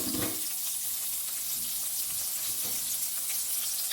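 Gizzard and sauce sizzle in hot oil in a pan, a steady bright frying hiss with occasional soft stirring scrapes and no talk.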